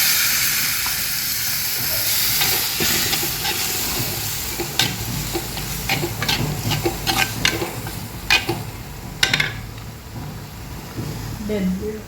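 Turkey berries (chundanga) hit hot oil with crushed chili in a Kerala-style curry pan, giving a steady close sizzle with scattered sharp crackles and pops that grow busier toward the middle.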